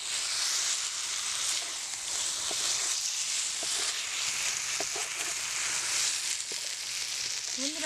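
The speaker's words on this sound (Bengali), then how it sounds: "এবার ভেজে রাখা আলুগুলো দিয়ে দিচ্ছি। আলুর সাথে আমার মশলাগুলো ভালো করে কষাতে হবে।" Fried potatoes sautéing with spice masala in a pan for a vegetarian aloo dum, a steady close sizzle and frying hiss running throughout with occasional stirring scrapes.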